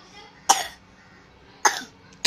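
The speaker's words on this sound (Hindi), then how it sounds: "अरे यार खांसी आ रही है" Three sharp, close coughs, about a second apart, each a short harsh burst with nothing else around them.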